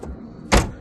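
A Toyota Camry trunk pops open from a remote release, giving a single sharp, loud mechanical thunk that follows a brief quiet moment.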